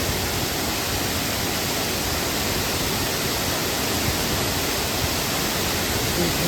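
Ghonsari waterfall in Kankavli, in Konkan, roars with a dense, steady, broadband rush of falling water that fills the whole stretch at constant loudness, close and overwhelming.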